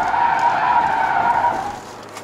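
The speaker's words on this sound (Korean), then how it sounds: "초반에 이제 급가속을 하잖아요. 그러면은 휠스핀도 생겨요" Tires of a Hyundai Maxcruz 2WD with 8-speed automatic spin and squeal under hard acceleration from a standstill, a steady loud screech that holds for about a second and a half, then fades.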